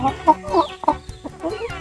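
Chickens cluck in short, choppy bursts close by, several quick calls overlapping with little pause between them.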